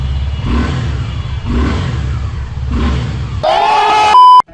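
A Suzuki Gixxer SF 250cc motorcycle engine revs hard three times in a steady rhythm. A fourth, higher, sustained rev climbs in pitch and is then cut off abruptly, all loud and close.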